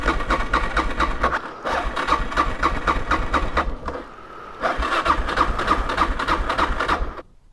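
A dual sport adventure motorcycle, smelling of fuel and under repair, cranks at full throttle in two long rapid chugging starter bursts separated by a brief pause, loud and close.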